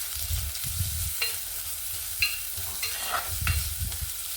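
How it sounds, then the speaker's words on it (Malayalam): Onion, green chili, ginger and garlic sauté in a pan for a village-style fish curry, a steady sizzle under occasional light stirring and scraping clicks, close and alone. "സവോളയും 2-3 പച്ചമുളകും ഇഞ്ചി ചെറുതായിട്ട് അരിഞ്ഞു വെച്ചിരിക്കുന്നു, വെളുത്തുള്ളി കൂടിയിട്ട് നന്നായിട്ട് വഴിച്ചെടുക്കാം."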